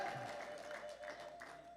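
A church congregation claps during a sermon, a faint, scattered ripple of many hands under a sustained tonal hum, irregular and somewhat distant.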